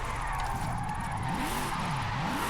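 In a racing video game, a Jaguar drift car slides through a corner on the handbrake, its engine note swooping up and down in a continuous wavering drone with a light tire hiss.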